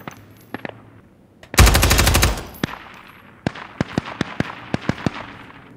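Video-game weapons crackle in the distance: a dense burst of automatic fire, then a string of separate sharp single shots spaced out over several seconds, with no talking.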